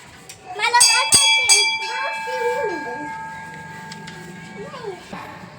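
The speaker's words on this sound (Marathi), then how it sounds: "वाजवा घंटा." A temple bell is struck at a small village shrine to Saraswati, Santoshi Mata and Mahalakshmi, giving several bright, ringing strokes that die away slowly. A child and adults can be heard talking over the ringing.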